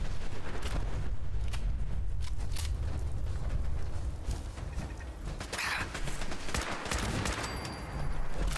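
Single-shot gun fire in Fallout 4, sharp cracks spaced through a busy layer of mechanical clatter and combat noise, with one brighter burst midway.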